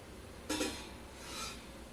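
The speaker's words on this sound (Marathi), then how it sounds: "आता दोन मिनिटांनी झाऱ्याने थोडंसं इकडे तिकडे करून घ्यायचं आहे" A slotted spoon stirs shankarpale frying in oil in a home kitchen, giving two brief metallic clinks against the pan about a second apart over faint background noise.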